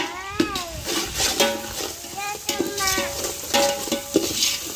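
Masala with ginger garlic paste, rock salt, chili powder, garam masala and biryani powder fries in a pan, with repeated stirring scrapes over a sizzle; a cat meows several times nearby.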